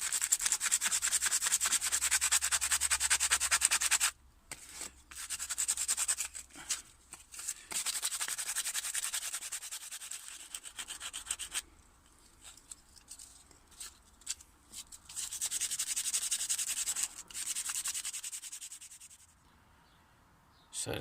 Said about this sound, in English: I like to use rough sandpaper and then a finer sandpaper.